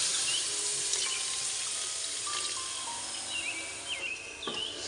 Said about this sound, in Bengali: গুড়ের সাথে আমি 1/2 কাপ পানিও দিয়ে দিচ্ছি।